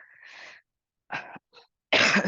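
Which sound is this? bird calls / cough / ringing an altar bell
cough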